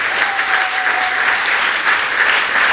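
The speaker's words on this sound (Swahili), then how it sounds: "Piga makofi mengi kwa Yesu." A church congregation applauds for Jesus with loud, continuous clapping that stays steady throughout.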